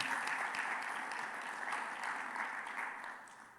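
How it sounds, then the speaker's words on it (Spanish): A church congregation claps together in sustained applause, a dense, even patter of many hands that carries on steadily and then begins to fade toward the end, with no talking over it. "Vamos a dar un fuerte aplauso a nuestro Señor por su perfección y por su amor."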